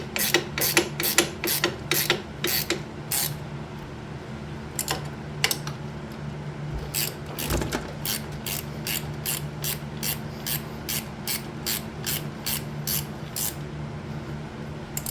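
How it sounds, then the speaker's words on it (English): A ratcheting wrench works on a 4-cylinder Fiero engine during a V6 swap, near the clutch slave cylinder, giving rapid, close bursts of crisp metallic clicks that repeat steadily with short pauses between strokes. "Room for a ratcheting wrench?"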